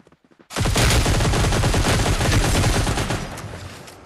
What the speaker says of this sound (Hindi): यहाँ पे आती मेरे को एक गन की साउंड दिखता है हल्का सा